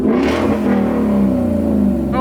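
A loud, close rev comes from a race car fitted with an eBay chin spoiler, out in the snow. The engine holds one sustained, buzzing note that drifts slightly in pitch before cutting off.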